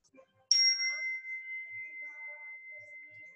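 A single bright struck bell marks the end of a breathing exercise in a family yoga session, ringing out clearly and then sustaining with a long, slowly fading tone in a quiet room.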